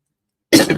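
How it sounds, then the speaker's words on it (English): A single harsh cough from a person with a lingering cough bursts out suddenly after silence, close to the microphone and loud. "My wonderful cough that I can't get rid of"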